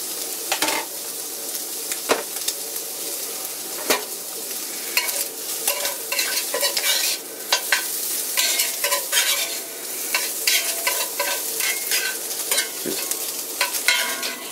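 Pork reheats in a cast iron pan for a Cuban sandwich, giving a loud, continuous sizzle broken by frequent scraping stirs and clinks of a utensil against the pan.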